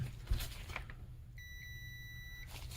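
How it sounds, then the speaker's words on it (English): A multimeter set to continuity mode, probing a Sega Genesis game cartridge, sounds one steady, high electronic beep lasting about a second, faint over low background hum. "put the multimeter in continuity mode"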